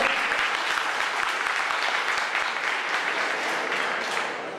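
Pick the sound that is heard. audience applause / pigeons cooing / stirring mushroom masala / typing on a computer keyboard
audience applause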